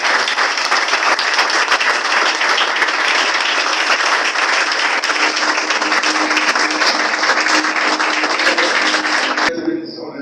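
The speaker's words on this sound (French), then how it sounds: "Donc, sous vos acclamations, Robert de Chris Chapel d'anglais." A church congregation applauds and cheers, a loud sustained roar of clapping close by for about nine seconds before it cuts off abruptly, with voices mixed in.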